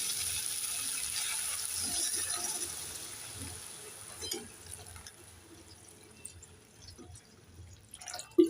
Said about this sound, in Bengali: ঝোল বানাবার জন্য দিয়ে দেব উষ্ণ উষ্ণ গরম জল